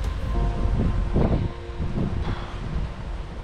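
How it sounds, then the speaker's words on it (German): Strong, gusty wind over open water with large waves during a kayak fishing outing, buffeting the microphone in a loud, continuous roar with rustling surges. "Es ist so windig geworden, ich kann da überall nicht angeln. Das sind Riesenwellen und übelst der Wind."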